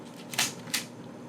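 The shutter of a Nikon F3/T film camera set to T: two sharp mechanical clicks about a third of a second apart, close and crisp over faint room hiss.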